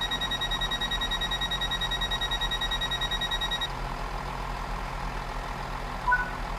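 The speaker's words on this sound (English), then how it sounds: "Let's get ready to lock those doors." Door-locking warning beeps sound on a Great Western Express train in Train Sim World 3. A steady high electronic tone repeats over a low cab hum, then cuts off partway through, leaving the engine drone.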